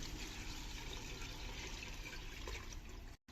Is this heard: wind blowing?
no